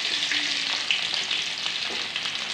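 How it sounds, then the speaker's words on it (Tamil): Curry leaves and crushed garlic fry in hot oil with mustard and fenugreek seeds for a fish curry, a loud, dense, continuous sizzle with small pops, close up and with no speech. "கடுகு வெந்தயமும் நல்லா பொரிஞ்ச பிறகு கருவேப்பிலை ஒரு கொத்து சேர்த்துக்கோங்க"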